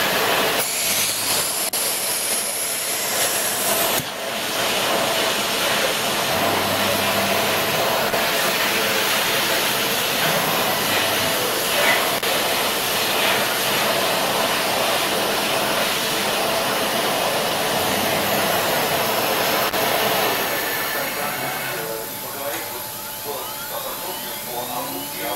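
A CNC milling-engraving machine spindle spinning at 50,000 rpm gives a loud, steady high-pitched whine with airy hiss. It holds constant for most of the span, then eases slightly near the end, with voices faintly underneath.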